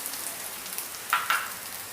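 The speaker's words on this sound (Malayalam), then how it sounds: "നെയ്യ് ചൂടാകുമ്പോൾ അതിലേക്ക് തേങ്ങ ഇട്ട് കൊടുക്കുക." Grated coconut fries in hot ghee with a soft, steady sizzle and a couple of faint crackles, close by and without any talk.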